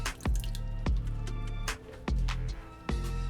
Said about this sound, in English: We can go ahead and add our sauce.